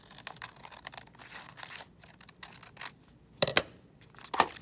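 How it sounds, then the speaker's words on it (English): A carving tool scraping and gouging a block printing block, a run of short dry scratchy strokes with a couple of sharper louder cuts near the end, close and alone. "now I'm going to cut the other direction"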